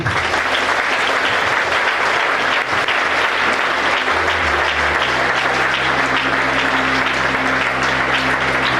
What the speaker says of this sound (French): Peuple de Dieu, est-ce qu'on peut s'acclamer, s'il vous plaît?